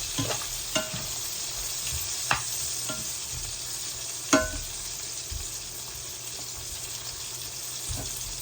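Drumstick (moringa) pieces sautéing in hot oil in a home kitchen, a steady sizzle with several sharp scrapes and clinks of a utensil stirring the pan, no voices.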